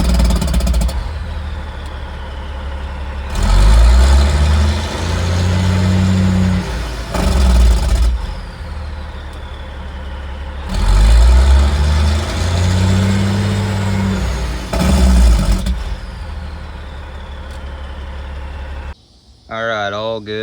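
A rebuilt Caterpillar 3406E diesel engine runs loud and close in repeated bursts, with heavy low rumbling surges that rise and fall between quieter idling stretches.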